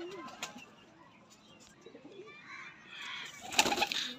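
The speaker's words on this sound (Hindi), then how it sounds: "सही है जी, रामपुरी कबूतर" Rampuri pigeons cooing softly in a loft, low murmuring calls spread through the clip with a brief burst of wing flapping or chirping near the end.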